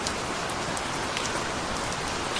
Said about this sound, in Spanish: Las gotas de lluvia impactando contra el suelo y las hojas de los árboles.